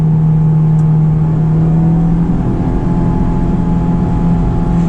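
A Honda S2000 sports car with manual gearbox drives along, its engine a loud, steady droning hum inside the cabin that holds one pitch with little change.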